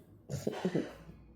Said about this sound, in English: I know his cough.